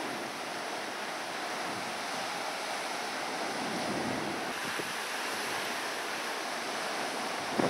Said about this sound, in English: A lot of white foam and surf coming in here at this point